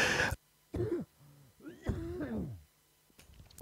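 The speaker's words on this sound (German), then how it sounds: "da kommt der Husten" A single short cough, then a few throaty, strained vocal noises and a throat clearing, close and fairly quiet with gaps of silence between.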